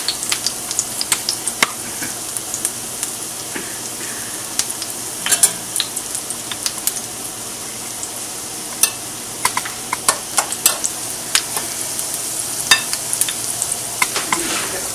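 Potato pancakes fry in a heavy cast iron skillet, sizzling steadily while a spatula scrapes and taps in irregular bursts close by.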